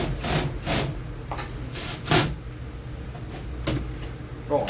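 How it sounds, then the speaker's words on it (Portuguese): A screw being driven into the back cover of an electric oven: repeated scraping, grinding turns in short bursts, fairly close and steady, with no speech. "colocar um parafuso aqui em cima logo para segurar a tampa"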